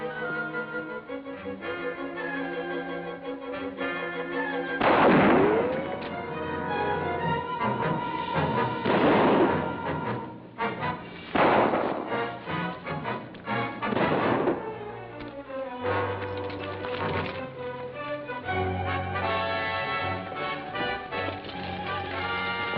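Gunfire sound effects from an old-time radio adventure serial, several sharp bursts cracking out in succession over a busy background of music and effects, with no talk over them.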